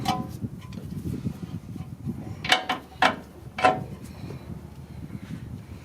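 Bolts being tightened on a 2003 Toyota 4Runner during front strut and CV axle work: three short, close bursts of ratcheting clicks over faint background noise.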